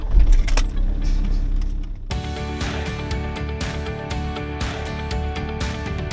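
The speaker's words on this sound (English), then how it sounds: "If the car starts." A car engine cranks and catches at the start of a move to Auckland with a caravan and a weak battery, keys jangling first, then the idle settling into a steady, close, even hum.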